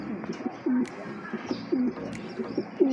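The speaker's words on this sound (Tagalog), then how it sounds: "At yun nga mga kalapatids" Pigeons coo in low, soft repeated calls with a gentle warbling rhythm, several birds fairly close, mixed with faint chirps and light background noise at a pigeon-racing toss site in San Pablo, Laguna.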